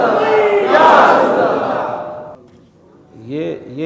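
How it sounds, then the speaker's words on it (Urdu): A large crowd at a religious rally roars a slogan in unison, a loud swelling shout that fades, then a second burst of chanting voices starts near the end. "یہ نعرے ہی ہے۔"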